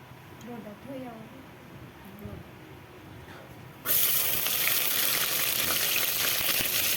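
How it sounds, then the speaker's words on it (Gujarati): Onion hits hot oil in a village kitchen while corn curry is being made, setting off a sudden loud, steady sizzling hiss halfway through that follows a quieter stretch with faint voices. "તેલ નાખ્યું હવે નાખવાની છે ડુંગળી"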